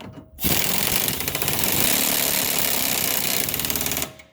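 A power tool drives home a stabilizer end link on a 2009 Subaru Forester, a loud, continuous rattling hammer-like whir lasting about three and a half seconds before stopping abruptly.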